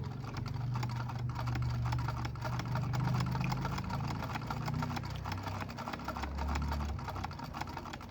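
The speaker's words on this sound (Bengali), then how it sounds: "এবার আমরা সেলাই চেক করব" A sewing machine runs a stitch test after servicing and tension adjustment, giving a steady close mechanical hum with a rapid ticking clatter of stitches throughout, no talking.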